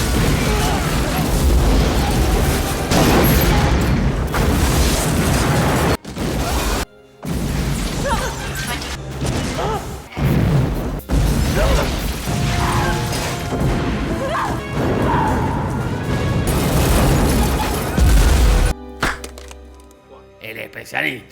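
Repeated loud explosions, crashes and booms from the action film The Specialist, packed densely one after another with brief gaps, mixed under music and speech throughout.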